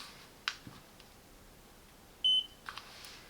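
A single short electronic beep from an AWithZ handheld spot welder as it powers on, clear and close, set among a few faint clicks and button presses.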